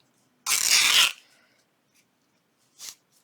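Muslin fabric ripped by hand, one loud close tearing burst lasting about half a second, then a brief faint rustle a moment later.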